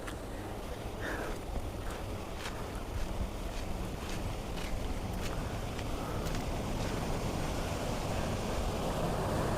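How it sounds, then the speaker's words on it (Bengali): Water rushing below a dam, a dense steady roar with wind buffeting the microphone throughout. "জলের আওয়াজ দেখুন নিচে"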